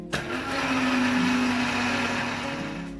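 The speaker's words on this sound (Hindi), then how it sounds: "अब हम इनको ब्लेंड कर लेंगे" A blender whirs steadily, blending garlic cloves, lemon juice and salt for a tahini sauce, a loud even motor hum that starts abruptly and runs for about three seconds with no voices.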